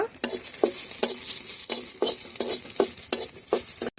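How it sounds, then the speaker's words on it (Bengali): Dried chili and garlic fry in a pan with a bright continuous sizzle, punctuated by about ten rhythmic spatula scrapes and one sharp cutoff near the end. "একটা শুকনো মরিচ দিয়ে ভেজে নেব"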